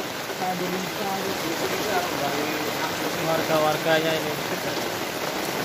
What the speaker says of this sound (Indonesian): Sangat deras sekali hujannya.